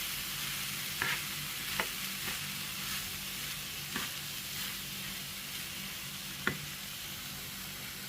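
Cauliflower and carrots frying in a pan while being stirred, a faint steady sizzle broken by a few sharp scraping clinks of the spoon against the pan, quiet and close with no talking.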